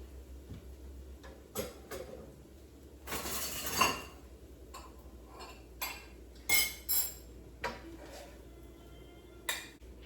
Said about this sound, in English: Now I'm going to serve some up into my little bowl.